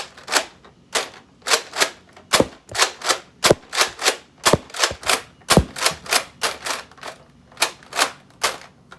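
A Nerf Commando toy blaster fires through a full magazine: about twenty sharp, close, dry clacks in quick succession with only brief gaps, alone with no talking.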